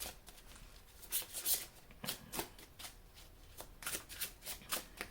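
A deck of oracle cards shuffled close up, with repeated bright papery riffles and flicks in uneven bursts over a steady low background hiss, no voices.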